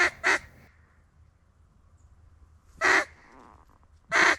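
Wigeon ducks call in the mountains, with four short, loud burst calls: a pair near the start and two more after a long quiet gap, set against faint low outdoor background.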